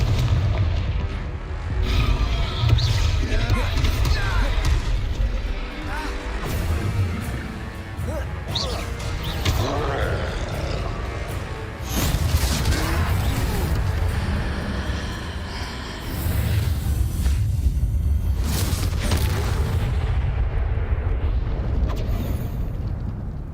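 Confringo spell blasts in the video game Hogwarts Legacy produce repeated heavy booming explosions with rumbling low-end crashes, loud and dense throughout, with a spell-casting voice and combat chatter between hits.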